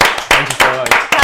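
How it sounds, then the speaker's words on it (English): An audience gives a round of applause for a contestant headed to the UAE final: short bursts of clapping mixed with loud talking and cheering voices. "Let's do a massive round of applause"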